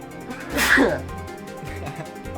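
A single sharp sneeze bursts out close and loud partway through, with quiet game music continuing underneath.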